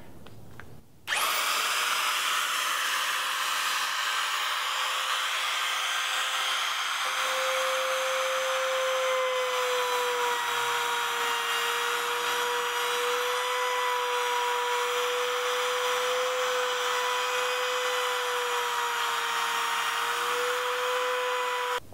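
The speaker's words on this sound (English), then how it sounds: "I've set the depth of my router to match that of a hinge, which is very shallow." Handheld router cutting a shallow hinge recess into a wooden door, a loud continuous high-pitched whine with a steady tone, running close and alone without pause.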